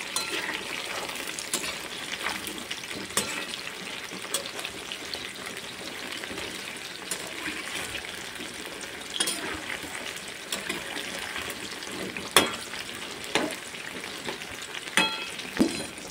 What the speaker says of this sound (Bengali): এবার গ্যাসের আঁচটা কিন্তু হাই রেখে আমি কলাগুলোকে ভাজবো